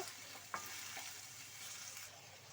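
Tomatoes frying in oil for a tomato gojju, a faint steady sizzle with a couple of soft stirring clicks, no voices.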